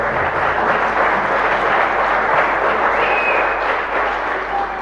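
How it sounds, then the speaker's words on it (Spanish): Congregation applauding at the close of a Mass in the San Roque chapel, a steady dense clapping that holds evenly for about five seconds, fairly close and loud. "Un fuerte aplauso para todos."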